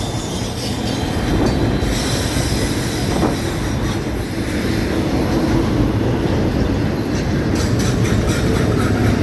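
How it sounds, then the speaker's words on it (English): A long FEC intermodal freight train rolls steadily past a crossing in St. Augustine, Florida, with loud continuous wheel rumble, rail clatter and occasional wheel squeal filling the whole stretch, close by and unbroken. "Almost every train the FEC runs is an intermodal cutoff."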